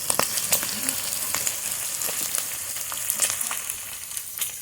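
Sliced onions sizzle and crackle in hot oil in a pan while pork curry is being cooked, a steady close frying hiss with occasional sharper pops and no talk.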